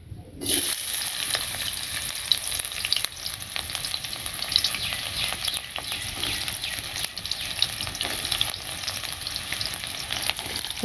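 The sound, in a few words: okra frying in a pan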